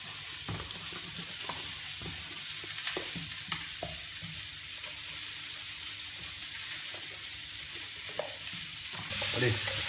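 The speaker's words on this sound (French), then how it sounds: "Je vais les faire sauter." Peppers sautéing in a hot pan, a steady close sizzle broken by repeated scraping stirs, with a brief rise in hiss near the end and no talking.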